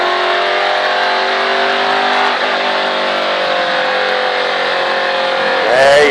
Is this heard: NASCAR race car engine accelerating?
yes